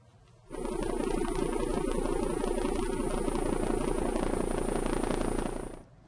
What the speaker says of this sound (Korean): 이 소리가 흔히 들을 수 있는 일반 헬리콥터의 프로펠러 소리입니다